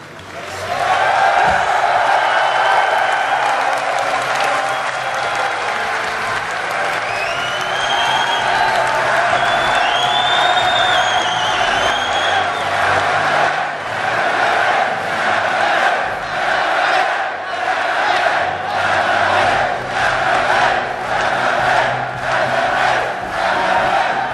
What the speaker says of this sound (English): Please give a round of applause to our champion.